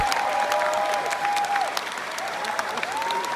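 A concert crowd applauds and cheers after a live performance, a wash of dense clapping with a whistle-like tone gliding over it, fairly loud and continuous.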